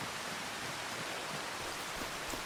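Steady rain in a farming video game, a dense even hiss of falling water with no breaks and no voices, holding at a constant level throughout.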